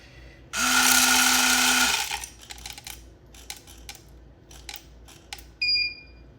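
An electronic beep from The Accountant unit: a short bright two-tone chirp near the end, after a loud whirring burst of about a second and a half and scattered clicks and handling noises.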